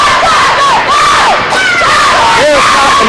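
A packed crowd at a high school basketball game fills the gym with loud, sustained cheering, whooping and shouting, a continuous dense roar with individual voices rising above it throughout.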